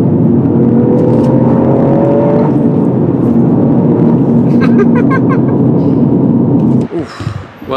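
Toyota GR Yaris driven hard on a road in France, its engine droning loud and steady with a rising whine as it accelerates, then dropping away near the end with some brief clatter.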